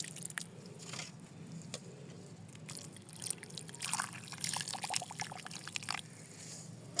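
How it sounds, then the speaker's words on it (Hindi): Water poured into a potted plant after transplanting, faint trickling and splashing with soft crackles of soil, steady and close at low volume with no voices. "और अच्छी तरह से इस पॉट को हम भरकर पानी देंगे।"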